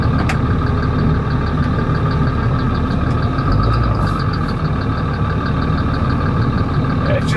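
A Cummins-swapped truck idles with the air conditioning running, a loud, steady diesel rumble holding constant from start to finish with a faint high whine on top.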